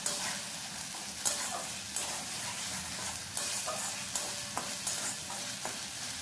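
Spice masala stir-fried in hot oil for a jackfruit curry, a steady sizzle broken by regular scraping strokes of a spoon against the pan roughly every second, close and fairly loud, with no talking.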